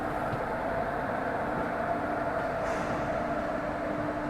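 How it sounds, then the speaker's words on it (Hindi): Diesel locomotive shunting in an Indian rail yard, a steady engine drone with a low hum and faint rail clatter throughout, moderately near, with no speech. "यहाँ देखिए डीजल लोकोमोटिव यार्ड में शंटिंग करता हुआ"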